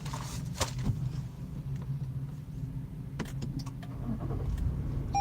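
A car starts up with a couple of sharp clicks, then settles into a low, steady engine hum at close range, with no one speaking.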